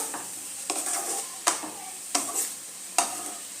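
Bottle gourd and shrimp with salt and green chilli are stirred in a pan on medium flame: four or five distinct scraping strokes over a steady soft sizzle, close and clear.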